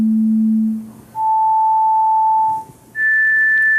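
Three pure sine tones play in turn, steady and loud, each stepping higher than the last and separated by short gaps, standing in for individual tones reaching the cochlea.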